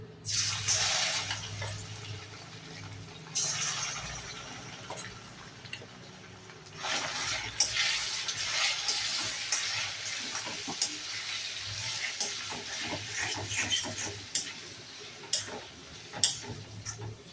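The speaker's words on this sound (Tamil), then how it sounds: "இப்போ நம்ம சிக்கன் பீஸ் எல்லாம் போட்டுக்கலாம்." Chicken pieces fry in hot oil in a home kitchen, a steady crackling sizzle with scattered sharp pops that swells and settles across the stretch, fairly close and without any voices.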